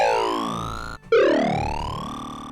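A synthesized tone from the Fazeoid FM synthesizer, a bright harmonic sweep that glides in pitch, breaks off briefly, then returns as a rising, wailing siren-like tone, loud and alone without speech.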